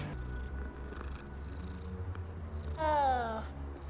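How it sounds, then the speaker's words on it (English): A cat in the Hogwarts Legacy video game lets out a single drawn-out, slightly eerie meow near the end, rising clearly over a steady low ambient hum of the game world. "But why is it that the cat's meows in this game sound a bit terrifying?"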